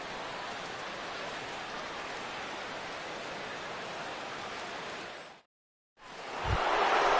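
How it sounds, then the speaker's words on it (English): Rain falling in a baseball video game, a steady loud hiss of downpour that drops out briefly near the end before resuming with a soft thump. "as the rain continues to fall here"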